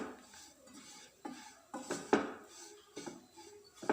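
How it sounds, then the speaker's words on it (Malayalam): Spoon stirring turmeric powder into egg roast masala in a pan, a series of soft scraping clinks at irregular intervals, close and fairly quiet, with no talking. "ഇനി നമ്മളിത് നന്നായിട്ടൊന്ന് മിക്സ് ചെയ്ത് കൊടുക്കാം"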